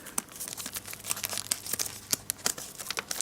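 A small plastic resealable bag handled in a model railway workshop, with sharp crinkling and rustling bursts in an irregular rhythm, close and fairly quiet, no talking.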